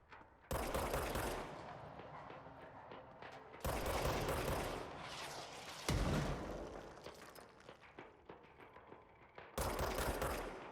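Enemy rifle fire in the game Control, loud bursts of rapid gunshots in several volleys separated by short gaps, with no talking.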